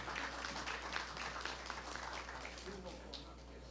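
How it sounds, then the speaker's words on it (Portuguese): An audience at a broadcasting engineering conference panel applauds a guest, a soft, diffuse patter of clapping that fades toward the end, with faint talk beneath it. "uma salva de palmas para ele"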